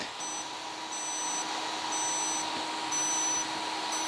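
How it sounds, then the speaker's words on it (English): Short electronic beeps from a home laser device repeat about once a second, evenly spaced and thin, over a faint steady background hum. "And I do 3 beeps"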